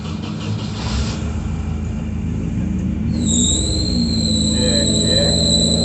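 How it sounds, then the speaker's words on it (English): A Champcar race car at Road Atlanta cranks and fires up, a loud steady mechanical rumble giving way after a few seconds to a high whining squeal that holds to the end. "Crank her up."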